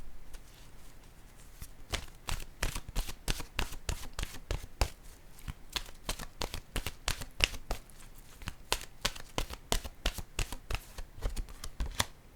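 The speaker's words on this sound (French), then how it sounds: "je vais piger tout de suite une carte de mon oracle de l'âme intuitive" An oracle card deck is shuffled and drawn from by hand, making a rapid, continuous riffling and flicking of cards that goes on steadily for about twelve seconds, close by and with no voices over it.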